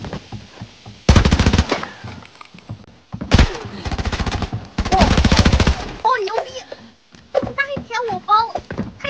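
Short bursts of automatic gunfire crack loudly in the Arena Breakout video game, with several rapid volleys in a row. A voice chats casually between and after the shots.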